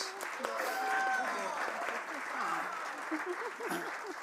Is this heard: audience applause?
yes